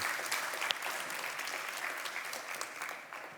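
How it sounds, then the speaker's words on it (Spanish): A church congregation claps in a brief, even burst of applause that holds steady and then begins to taper off, fairly quiet overall. "Un aplauso por ser suyo."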